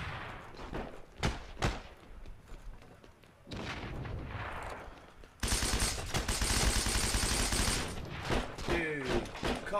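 MP40 submachine gun fire in a multiplayer shooter game, with scattered single shots at first, then a sustained loud rattling burst of rapid fire, with voices talking between the shots.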